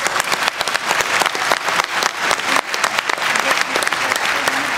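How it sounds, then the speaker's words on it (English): Audience applause at a live conference gathering, a dense, sustained wash of clapping from a large crowd, loud and continuous from start to finish. "Round of applause."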